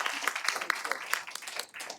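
Audience applause for a panelist at a public health panel discussion, a steady spread of many hands clapping at moderate volume with no spoken words.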